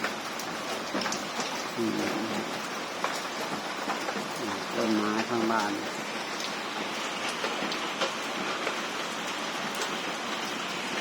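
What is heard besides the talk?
heavy rain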